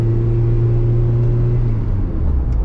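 A steady engine drones in a car with a swapped-in Honda K20 Type R engine, driving on a winter evening, with a low constant rumble and road noise filling the background, no voices.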